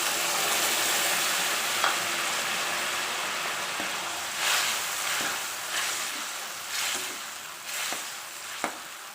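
Boiled taro frying in a pan with turmeric in an Assamese kitchen: a steady, even sizzle throughout with occasional soft clinks of a spatula stirring, no voices.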